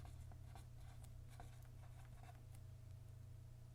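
Pen strokes scratch and tap on paper during a math lecture on logarithms, quiet and irregular, over a steady low room hum, with no talking.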